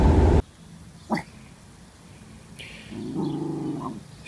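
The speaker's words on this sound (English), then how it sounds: "they hear the neighbor's dog outside" A neighbor's dog outside a backyard gives a low growl and a short bark, then a longer rumbling growl later on, all moderately distant after an abrupt loud burst at the start.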